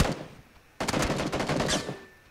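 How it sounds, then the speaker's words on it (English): Gunfire in the battle royale game PUBG: after a quiet start, a sudden burst of rapid shots rings out loud and close, continuing in a dense rattling stream with scattered sharper cracks until the end. "He's shooting at me!"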